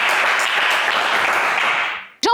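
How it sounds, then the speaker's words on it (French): A game-show studio audience applauds contestant Célestin, a loud, even wash of clapping that fades out near the end before a voice cuts in. "on applaudit Célestin"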